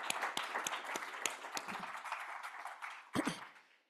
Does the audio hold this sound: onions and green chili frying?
no